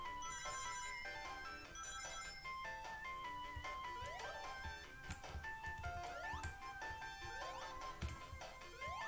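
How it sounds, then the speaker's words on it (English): A phone notification ringtone plays a bright, repeating electronic melody of chimes and swooping tones. It sounds close and clear and runs steadily with no talk. "I just got a notification that it's premiering right now"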